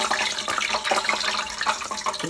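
Drops of water hit hot frying oil, set to cook wings and fries, and a steady crackling, popping sizzle follows, loud and close with no voices.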